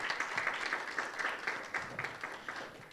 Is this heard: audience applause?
yes